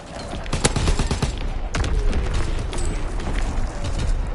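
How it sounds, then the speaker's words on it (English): Incoming enemy artillery fire in Call of Duty WWII, with loud close explosive blasts and rattling gunfire crashing in repeatedly over a dense, constant battle roar. "Incoming enemy artillery! Get to cover!"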